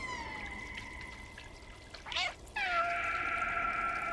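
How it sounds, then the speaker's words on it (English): A cat meows repeatedly in the video game Stray, with long drawn-out harmonic cries, a short broken yowl mid-way, then a sustained wail to the end, heard alone and fairly loud. "That cat sounds horrible."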